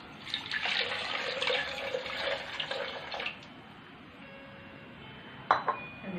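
Water pours into a beetroot and lemon juice mix, a close splashing trickle for a few seconds that stops, followed by a couple of faint clinks.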